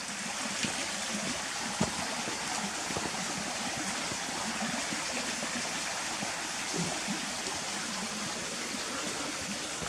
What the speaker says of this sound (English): So it's called MALHAM Beck.